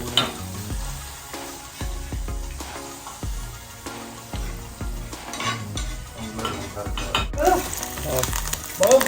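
Green chillies and curry leaves frying in hot oil with asafoetida, a busy close sizzle mixed with stirring scrapes and clinks of a utensil against the pan, under faint background voices.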